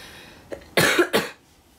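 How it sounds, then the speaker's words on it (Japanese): A person coughs twice in quick succession, close and fairly loud, with a faint throat sound just before, and no talking. "最近さ謎の咳が出てくるんだよね。"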